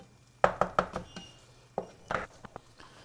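A spatula tapping and scraping at eggs frying in a pan, making a few sharp close clicks and knocks in two short bursts with quiet gaps between them.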